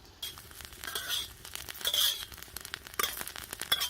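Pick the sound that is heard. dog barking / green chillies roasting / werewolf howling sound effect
green chillies roasting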